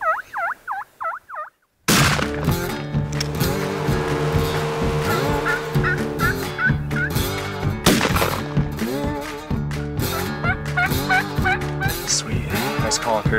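A wild turkey gobbles in a quick rattling burst, then the scene fills with music and dense, loud layered sound with more gobbling and bangs mixed in.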